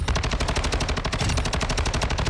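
STB 556 rifle in Warzone 2.0 firing full-auto at training dummies, a fast, even rattle of shots that is loud and close with no pauses and no voices.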